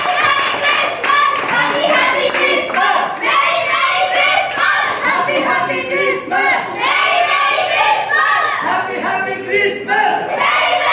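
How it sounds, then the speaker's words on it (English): Crowd clapping after a Christmas youth dance performance at a church in Hyderabad, loud and close, mixed with children's voices and chatter throughout. "Big applause."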